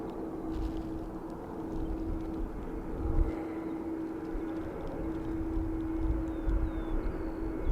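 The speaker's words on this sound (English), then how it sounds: "There's our little ATR just coming in now from Manchester in the UK." An ATR turboprop airliner arriving from Manchester at Dublin Airport, heard as a steady, moderately distant engine drone with a sustained hum held throughout the approach.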